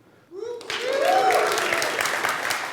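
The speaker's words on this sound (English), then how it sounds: "I need some applause." Audience applause at a CSS Day 2017 conference talk, starting abruptly after a short spoken lead-in and swelling into sustained, dense clapping that fills the rest of the room.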